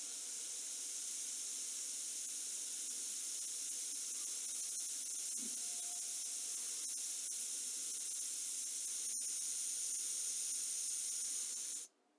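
Air escapes from the tire valve of a Range Rover L322 wheel with the valve stem in, a steady, continuous high hiss running unbroken for about twelve seconds before abruptly stopping.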